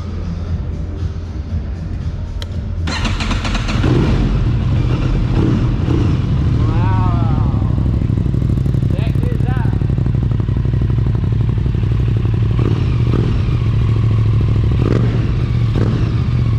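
Aprilia RS660 motorcycle fitted with an Akrapovic exhaust fires up after a few seconds of quiet, then settles into a loud, steady idle that runs on, with voices talking over the engine.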